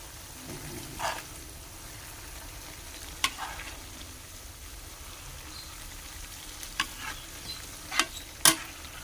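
Coconut serundeng with peanuts frying quietly in a pan, a soft continuous sizzle under a few sharp clicks and scrapes of stirring, with no speech.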